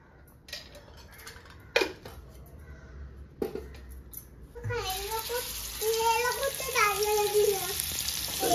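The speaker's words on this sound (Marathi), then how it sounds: "हे बघ मावरा फ्राय करता बघ." Mawra fish, long slender pieces, frying in oil in a hot pan, a steady crackling sizzle that grows louder midway, with a voice and adult speech over it and a few clatters at the start.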